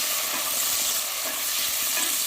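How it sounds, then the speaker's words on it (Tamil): Curry leaves and onions sauté in a pan for mutton biryani, giving a steady, dense sizzle that stays even and close throughout, with no voices. "கருவேப்பிலை, வெங்காயம் போட்டுக்கலாம். போட்டு நல்லா வதக்கிக்கலாம்"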